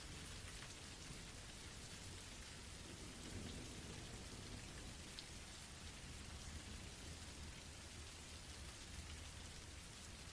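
Steady rain falls with low rumbling thunder throughout a cabin-in-the-woods storm scene, a continuous wash of downpour with a deeper roll swelling near the middle, no voices.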